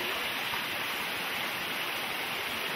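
A waterfall spills over a man-made rock wall, heard as a steady, even rushing hiss of falling water with no pauses, fairly soft and constant.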